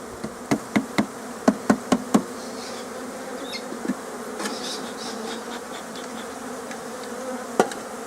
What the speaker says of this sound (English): So I'm going to shake these bees off inside the hive